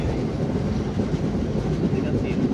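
Rail cars roll over a bridge spanning the Bentota River, Sri Lanka, giving a dense, even rumble with hints of clickety-clack from the wheels, sustained and fairly near, no talk standing out.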